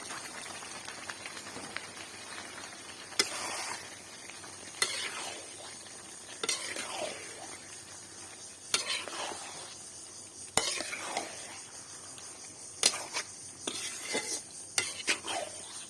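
Beef tripe stirred into cooked-down masala in a pan on a village kitchen stove, with soft steady sizzling broken by intermittent scrapes and clinks of a spoon against the pan.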